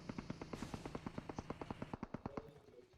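Rapid automatic gunfire in the PUBG Mobile video game, about a dozen and a half evenly spaced shots in quick bursts, fairly faint and distant, with a brief lull near the end.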